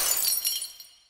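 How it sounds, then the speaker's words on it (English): Sugar shaker smashing on the floor, a sharp burst of shattering glass with bright tinkling fragments that decays quickly to silence. "you've only gone and smashed Cat's favourite sugar shaker"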